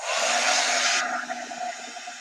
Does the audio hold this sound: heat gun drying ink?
yes